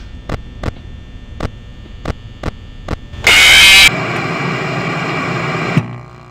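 Five Nights at Freddy's jump scare static: a sudden, very loud burst of harsh full-band noise. It follows several sharp evenly spaced clicks over a low hum, then drops into a sustained buzzing drone that cuts off abruptly.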